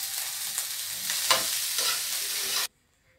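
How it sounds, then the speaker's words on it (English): Coconut fried rice with shrimp is stirred in a pot, a continuous loud sizzle with scraping strokes from the spoon that stops abruptly near the end. "So you just have to mix this rice like this"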